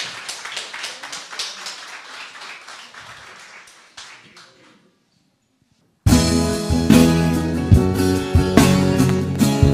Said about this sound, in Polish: brawa, brawa dla kolegi